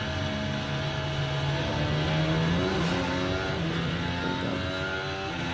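Formula One race car engine holding a steady, loud, high-pitched drone with shifting harmonic tones as it revs and keeps pace, continuous for several seconds with no talking.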